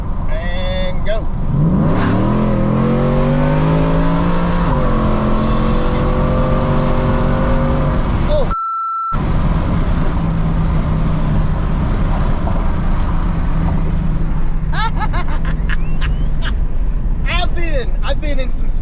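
A supercharged Ford F150 making more than 750 horsepower pulls hard from a 40 mph roll, its engine climbing loudly through rising revs, shifting, then climbing again with a supercharger whine over the top. Someone talks and whoops over the roar.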